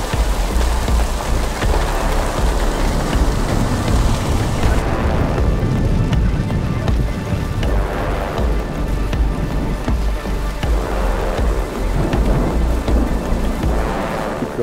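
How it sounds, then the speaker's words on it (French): Heavy rain pounds down steadily during a Texas thunderstorm, a dense loud hiss of rain on surfaces with low rumbles of thunder rolling underneath throughout. "Il pleut encore très très fort sous cet orage."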